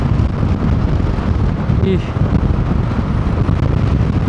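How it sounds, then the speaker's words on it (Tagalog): Very strong typhoon wind hitting a halted motorcycle rider on a mountain road, a constant heavy low roar of gusts buffeting the microphone, loud throughout, with a brief faint voice in the middle. "napahinto tayo sa sobrang lakas ng hangin"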